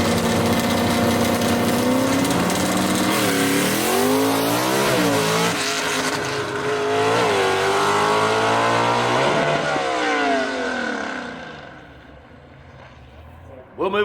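A gasser drag race car makes a run at Union Dragway, its engine roaring loud and close as it revs and shifts through several gear changes, then fading into the distance, with a voice heard over the noise.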